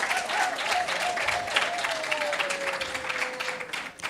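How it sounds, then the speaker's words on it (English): An audience at a university research day gives sustained applause for the next speaker, dense even clapping from a crowd with a voice faintly audible beneath it. "May we please give him a round of applause?"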